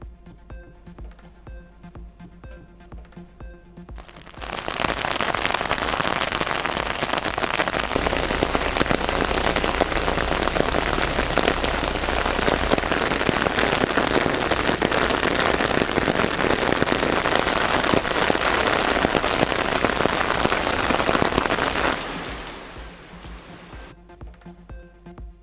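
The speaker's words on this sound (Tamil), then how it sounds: "தமிழ்நாட்டின் பல்வேறு மாவட்டங்களில் திடீரென பெய்த மழை." Sudden heavy rain pours down across districts of Tamil Nadu, a dense steady hiss and patter that swells in abruptly, holds loud and even for nearly twenty seconds, then fades back to quieter background.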